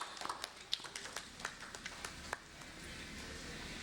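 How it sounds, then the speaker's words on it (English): A conference audience gives scattered, quiet claps for a panel speaker: a dozen or so sharp individual claps in the first half, then they fade into room hush. "A big round of applause to Sujeet for his wonderful contribution in the panel session."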